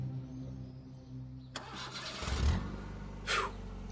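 A car engine cranks and catches after a quiet stretch, with a sharp burst of starter noise followed by a loud rising rev and a brief surge before it settles.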